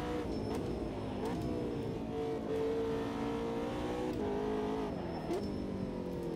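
A GT3 race car in the Automobilista 2 sim racing game at the Nürburgring holds a steady, loud engine drone whose pitch rises and falls, with sharp downshift blips near the end of the stretch.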